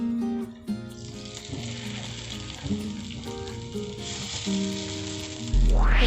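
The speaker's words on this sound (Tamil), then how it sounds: "இப்போ நம்ம டிப் பண்ணி வச்சுருக்க வாழைக்காயை இதில் பொரிக்கலாம்." Steady oil sizzling and crackling as battered plantain fritters deep-fry, with occasional clinks and a louder burst of bubbling near the end.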